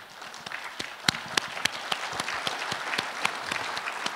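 Guests at a book launch event applauding, a lighter crowd whose individual sharp hand claps stand out irregularly over a softer clapping bed, moderately loud and steady throughout.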